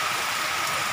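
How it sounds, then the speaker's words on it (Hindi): Heavy rain pours steadily outdoors, a dense, continuous hiss of drops hitting surfaces with no pauses. "बारिश काफी तेज हो रही"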